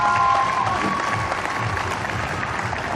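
Audience applause and cheering from a crowd at a STIHL Timbersports Australian Trophy woodchopping event, a broad, dense wash of clapping that starts loud and gradually tapers.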